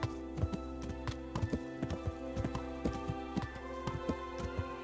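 Horse hooves clip-clop at a steady riding gait in Kingdom Come: Deliverance, regular near thuds over a constant low in-game hum, no voices.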